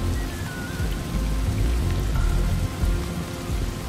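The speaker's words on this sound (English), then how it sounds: "I could do without the rain." Steady rain hisses and patters across a stormy scene in the video game Desperados 3, a dense continuous wash with low rumbling underneath and no voices.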